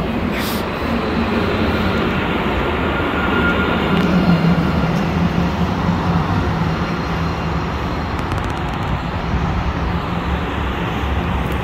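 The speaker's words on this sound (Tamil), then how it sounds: "ட்ராம் வருது பாருங்க." A tram arrives in Dubai with a steady, loud rail rumble and rolling hum that holds evenly throughout, heard up close with little else over it.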